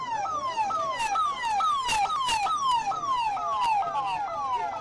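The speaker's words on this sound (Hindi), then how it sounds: "यहां से एम्बुलेंस इन सभी को लेकर रवाना हो चुकी है।" Ambulance siren wailing as the vehicle leaves the Uttarkashi tunnel rescue site, a loud repeating rising-and-falling sweep that runs continuously and close with no voices.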